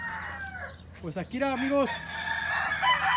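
A rooster from California crows once, a rising and falling cock-a-doodle-doo close by, while someone talks briefly just before and farmyard noise continues after.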